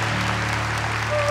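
Congregation applauding during a Catholic church sermon, a steady wash of clapping filling the whole short stretch with a low sustained hum beneath it.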